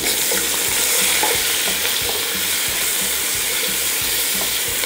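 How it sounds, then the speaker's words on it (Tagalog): Onions sautéing in hot oil for a Filipino fish sinigang with miso, a steady close sizzle broken by regular scraping stirs of a spatula throughout, with no talking. "Ginigisa ko lang itong sibuyas hanggang sa makita ko na naghiwalay na yung mga layers nito"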